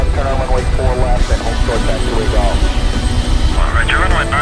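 A jet engine roars at a steady level, taxiing for takeoff in Microsoft Flight Simulator at Entebbe airport in Uganda, with radio-style talk running over it.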